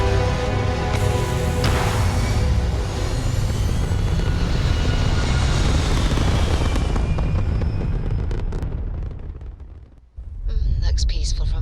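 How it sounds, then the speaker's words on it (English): Spaceship thrusters firing in the video game Starfield, a loud, broad roaring rush that holds steady for several seconds, fades out to near silence around ten seconds, then briefly returns. "Thrust is firing."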